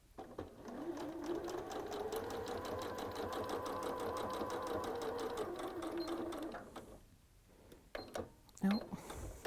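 A domestic sewing machine runs steadily for about six seconds, stitching two lines down each side of a linen-look fabric panel, with a rapid even needle rhythm close by. It then stops and a voice follows.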